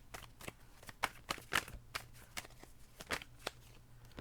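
Tarot cards being shuffled and drawn, a quick run of crisp riffling slaps and soft card flicks in an uneven rhythm, close and fairly quiet with no talking.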